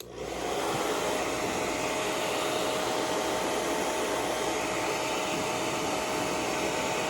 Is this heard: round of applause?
no